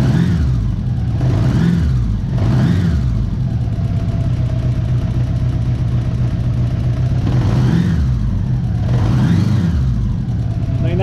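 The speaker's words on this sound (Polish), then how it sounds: "Motorek ciągle zimny, jeszcze dam mu chwilę, żeby doszedł do temperatury roboczej." A cold Honda Goldwing 1000 motorcycle engine idles steadily while warming up, a close, continuous mechanical drone with a few brief throttle blips rising and falling over about eleven seconds.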